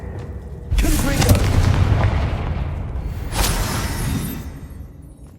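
Two heavy booming spell blasts from the Confringo fire curse in the Hogwarts Legacy video game, one near the start and a second a few seconds later, each with a crackling tail fading out.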